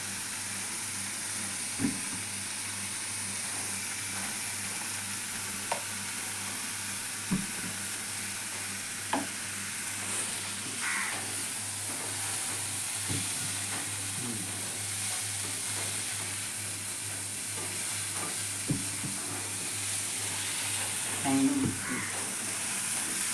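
Dal with turmeric fries in a pan as a spoon stirs it: a soft, continuous sizzle punctuated by light scraping clicks every few seconds, with faint talk in the background.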